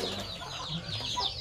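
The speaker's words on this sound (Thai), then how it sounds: "ไก่นี่เสียงดังมากนะเนี่ยช่วงยิ่งช่วงเย็นนะคะไก่มันจะเสียงดังเนาะเพราะว่ามันอยากกินข้าว" Chickens cluck and squawk close by at a rural home in the evening as they wait to be fed, with busy, overlapping calls forming a short, steady burst.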